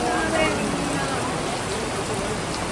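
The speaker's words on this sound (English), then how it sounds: "I know I go on about the rain a lot, but this is what keeps happening." Heavy rain falling in Seville, a loud, dense, steady hiss of downpour on surfaces, close and continuous throughout.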